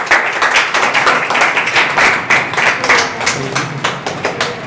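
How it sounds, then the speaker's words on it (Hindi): Applause from an audience welcoming a prize winner at a coaching award ceremony, dense, fairly close clapping that rises and falls continuously for several seconds. "सभी लोग तालियों से स्वागत करें।"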